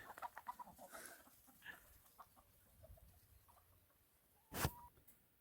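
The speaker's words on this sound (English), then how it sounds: "Those chickens are scared of the sheep." Chickens clucking softly in short, scattered bursts nearby on a farm with sheep, with light rustling and a brief louder thump near the end.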